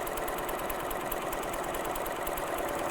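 A hat embroidery machine stitching puff embroidery runs in a steady, fast mechanical chatter, loud and continuous, with no voices.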